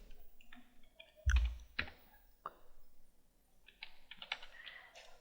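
Someone types on a computer keyboard at close range, with quiet irregular clicks and a few louder key strikes in uneven clusters.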